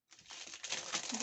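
Packaging crinkles as it is unwrapped by hand, a brief, close, quiet rustle that builds over about a second.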